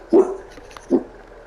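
In the video game Farming Simulator 22, a dog gives two short, low barks about a second apart, fairly close, with quiet in between.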